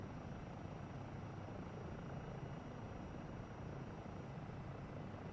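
A helicopter in a PlayStation VR2 video game drones continuously with a steady rotor thrum and engine whine, even and unbroken, with no voices.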